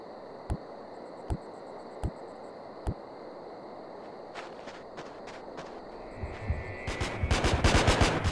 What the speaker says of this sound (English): Gunshots. That ain't a good sign.